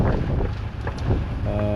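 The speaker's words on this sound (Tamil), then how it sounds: "சரியான காற்று அடிக்குது" Strong wind swirls and gusts during stormy weather in Sri Lanka, buffeting the microphone with loud, rumbling low roar and uneven bursts through the short stretch.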